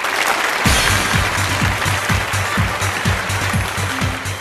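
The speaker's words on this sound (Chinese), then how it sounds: "掌声有请。" Studio audience clapping to welcome two guests onto a televised book program, a steady wash of applause over a thumping rhythmic beat, with no talk.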